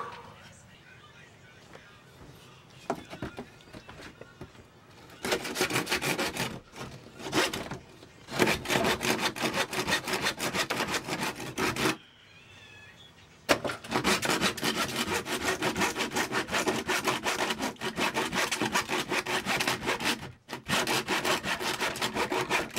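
A hand saw cuts through fiberglass inside an old sailboat, working in steady, close back-and-forth rasping strokes in two long bursts with a short pause between.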